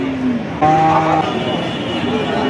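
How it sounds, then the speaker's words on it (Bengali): A cow moos at a busy Bangladeshi cattle market, with one long low call, then a louder bellow, against a steady murmur of crowd noise. "দেখুন দর্শক গাই বাছুর দেখতে পাচ্ছি"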